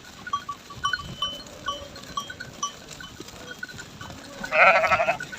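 Sheep and lambs bleating in a Turkish village, several short, moderately distant calls spread across the clip, with a louder, closer bleat near the end over a low background rumble.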